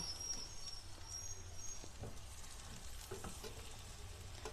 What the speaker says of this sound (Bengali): দুটোকে আমি হালকা করে ভেজে নিয়েছি